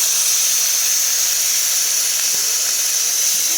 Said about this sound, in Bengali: মশলা ধোয়া জলটা দিয়ে দিই।